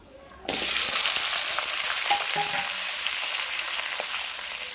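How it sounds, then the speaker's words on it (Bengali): Chopped onion drops into hot oil with seasoning spices for chicken kosha and bursts into a loud, steady sizzle that continues evenly and fades slightly toward the end. "দিয়ে দেবো পেঁয়াজ কুচিটা"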